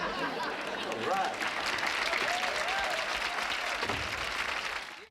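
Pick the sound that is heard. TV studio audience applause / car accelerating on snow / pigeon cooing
TV studio audience applause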